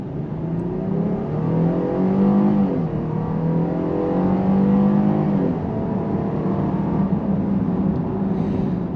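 A 2023 Jeep Grand Cherokee L with a V6 engine accelerating under a fair amount of throttle, its engine note rising steadily through the gears from inside the cabin, continuous and moderately loud with no talk.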